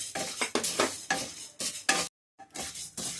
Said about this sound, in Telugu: మినపగుళ్ళు ఫ్రై చేసుకోవాలి మంచిగా దూరగా వేయించుకోవాలి